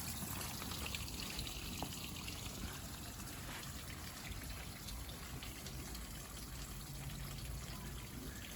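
Water trickles continuously onto cloth, giving a soft, steady, hissing patter that stays even throughout.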